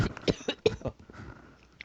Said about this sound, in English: I'm coughing all over the place.